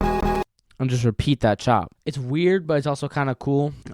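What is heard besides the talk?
No distinct noise like a dog, phone or traffic.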